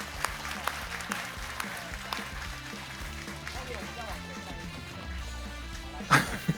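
Audience applause at a manufacturing-day plenary award presentation, a steady spread of clapping running under music and talk, with a louder burst near the end.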